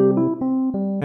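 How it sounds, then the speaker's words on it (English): A Rhodes electric piano from Ableton Live plays a quick run of about five soft-attacked chords and notes in just over a second, close and clear, with no talking. "a single track with a Rhodes instrument that comes with Ableton Live"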